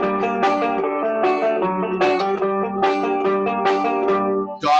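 A dark, creepy tune in a minor key, with plucked notes struck in a slow, regular rhythm, each ringing out and decaying before the next, clear and fairly loud with no talking.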